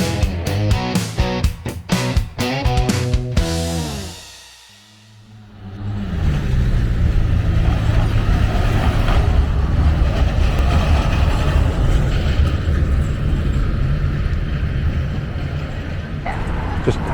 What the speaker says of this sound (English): Just had to wait for the tram to go past because they're noisy